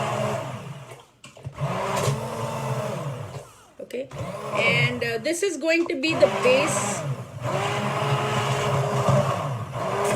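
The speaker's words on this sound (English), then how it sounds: "You go in with a hand blender and basically blend it out till it's nice and smooth." A hand blender whirs loudly in bursts as it blends a vegetable sauce smooth, its motor pitch shifting as it churns, while a person speaks briefly over it.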